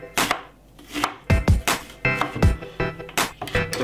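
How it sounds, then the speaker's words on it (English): A knife finely chopping white onion on a board, with crisp, close, uneven taps that come in quick bursts. "I'm cutting up some white onion really finely."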